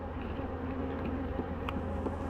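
Honeybees buzz steadily around hives that have recently been split using the Demaree method, a continuous close drone with no talk.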